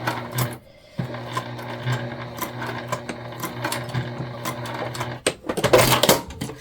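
A sewing machine with a tank foot stitching a fabric ID holder, running loud and close in steady mechanical bursts with a brief pause near the start and a harsher burst toward the end.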